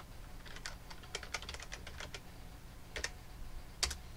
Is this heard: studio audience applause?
no